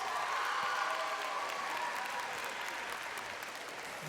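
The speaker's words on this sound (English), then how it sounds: "Give yourselves a round of applause." An audience at a high school multicultural assembly claps in a dense, sustained round of applause that stays loud and even, then eases slightly toward the end.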